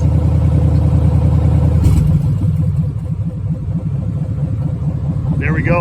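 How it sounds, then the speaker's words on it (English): A vehicle engine drops back to a steady idle after the throttle is released, a loud low rumble that settles and keeps running, with a brief higher whine near the end. "Take your foot off the throttle, let's see if it idles."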